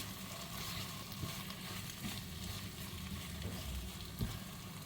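Fried yam pieces roast in masala in a pan, a steady close sizzling and crackle throughout with a few soft scrapes and clinks of stirring.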